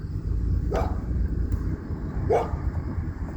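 Two short barks from a small dog some distance away, spaced about a second and a half apart, over a steady rumble of traffic or engine noise.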